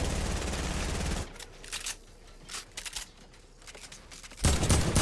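Rapid bursts of gunfire in a competitive shooter match, aimed at an enemy gliding below, crackle loudly at the start and again at the end with scattered sharper shots in the quieter middle stretch.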